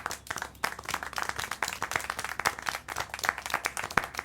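Crowd clapping in the video game Syberia The World Before, at the Silberspiegel Refuge in the mountains: irregular bursts of many hands, moderately loud and uneven, with sharp individual claps standing out.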